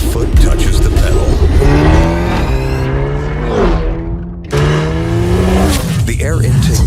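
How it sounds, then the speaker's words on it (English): A 2022 Hyundai Elantra N Line sedan accelerates with rising engine notes that climb and shift, loud and close, with a brief dip near the middle before the engine pulls again under a continuous roar. "The acceleration starts as soon as your foot touches the pedal."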